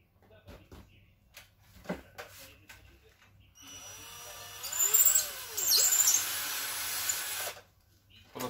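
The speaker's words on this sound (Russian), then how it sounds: "Просверлили, чтобы получше было." A power drill bores a hole during work on a car: a few scattered taps, then several seconds of loud whining drilling before it stops.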